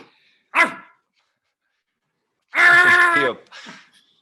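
A man imitating a dog's bark, giving one short gruff woof and then a longer, louder bark-growl ending in a brief yip, close and clear against silence.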